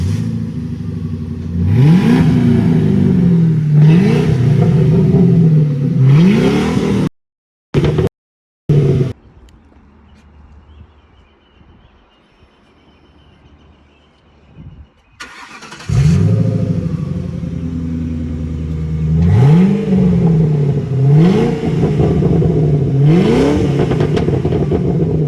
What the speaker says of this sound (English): the video cut off the revving, but I'll give you guys a nice sound clip right here